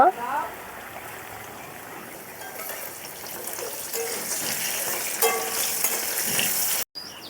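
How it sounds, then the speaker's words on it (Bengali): Potatoes frying in hot oil with salt in a home kitchen, giving a steady hiss and sizzle that holds at an even level throughout and cuts off briefly near the end. "এখন এর মধ্যে লবণ দিয়ে আলুগুলো ভেজে নেব।"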